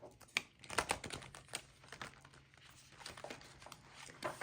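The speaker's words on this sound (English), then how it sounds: "Let's go ahead and pull some more cards here." Round tarot cards being handled and drawn from a deck make rapid close clicks, flicks and soft papery rustles in uneven bursts, with no talk.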